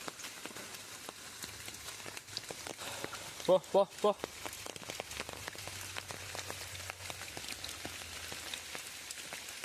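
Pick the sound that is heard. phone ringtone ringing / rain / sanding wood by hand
rain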